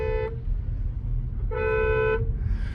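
A Hyundai Creta 2024 horn fitted to a Maruti Brezza sounds twice, a short beep and then a longer blast about a second later, heard muffled from inside the car over engine hum.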